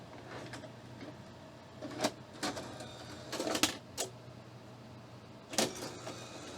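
An HDCAM tape deck rejecting and ejecting an HDCAM-SR cassette, heard as faint mechanical whirs and sharp clicks in a few short bursts over a quiet room background.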